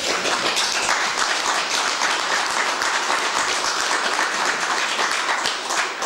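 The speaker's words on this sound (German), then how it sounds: "Die Massen dürfen auch klatschen." Audience applause and clapping from a crowd at a public event, a dense, steady roar of many hands that holds at full strength for about six seconds with no voices over it.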